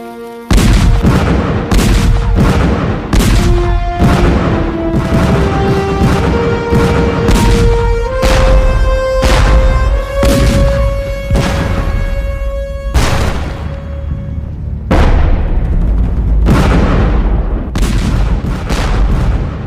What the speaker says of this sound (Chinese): 哇，这炮太厉害了吧！